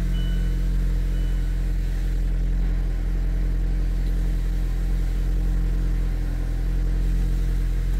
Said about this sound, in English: Car is running right now.